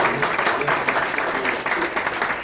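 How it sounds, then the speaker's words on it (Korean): A crowd claps continuously for a couple of seconds, dense and fairly loud, with voices faintly mixed in, at a political candidate's campaign event in a gymnasium in Pohang, South Korea. "다시 한번 유승민 후보님께 네, 박수 부탁드립니다"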